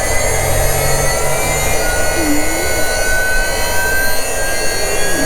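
A CNC router spindle spun up to about 17,000 rpm cuts the binding channel on a guitar body, giving a loud, steady, high whine with a constant tone for the whole stretch.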